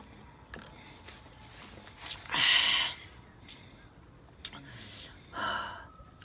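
A person breathes heavily after climbing up to a Japanese temple viewpoint, with several loud gasping breaths spaced a second or two apart, close to the microphone.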